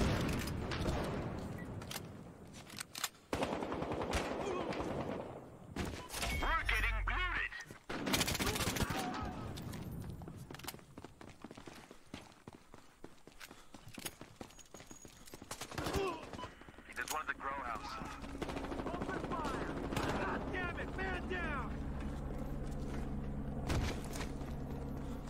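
Battlefield Hardline gunfire, bursts of automatic shots and single rounds with loud impacts, some close and some distant, scattered irregularly through a long stretch of game audio with a player's voice talking at times.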